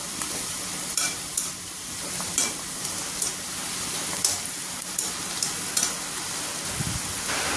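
Kerala-style jackfruit rags frying in hot oil, a soft continuous crackle and hiss with regular light taps of a stirring spoon against the pan, no voices.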